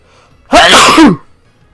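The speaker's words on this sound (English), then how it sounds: "You can tell when a sneeze is coming, right?" A single loud human sneeze bursting out close to the microphone during a Pokemon HeartGold game session, lasting about half a second with a sharp rising-and-falling shape and no talking around it.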